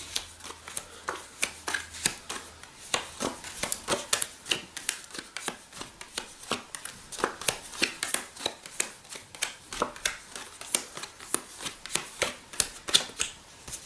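A pack of 25 playing cards gathered and dealt into piles, with quick close snaps and slaps of cards laid down in a steady rhythm and no speech.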